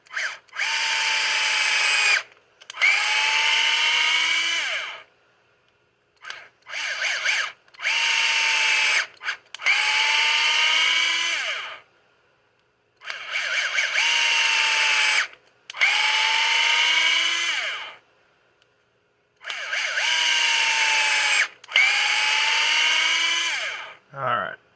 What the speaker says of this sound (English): I will run all the screws into the cup and thread, make sure I get all the holes pre-threaded.